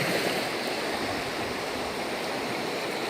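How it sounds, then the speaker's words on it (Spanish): Sea waves wash steadily onto a beach in a soft, continuous hiss with no distinct breaks, heard alone without any voices. "La marea va subiendo suavemente, dulcemente"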